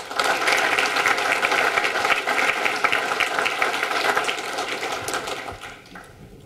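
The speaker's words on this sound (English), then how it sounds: "Let's give a round of applause to all our sponsors for their help and support." Audience applause for sponsors at a world trade event, a steady patter of many clapping hands that holds for most of the stretch and then fades near the end.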